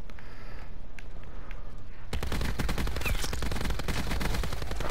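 Rapid automatic gunfire from shooting zombies in a Call of Duty video game, a quiet stretch with a few faint shots, then a loud, dense, continuous burst of fire.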